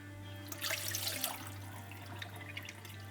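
Rinse water trickling and draining out of a natural sausage casing just pulled off a kitchen tap, a brief splashy wet flow over a steady low hum, no talk.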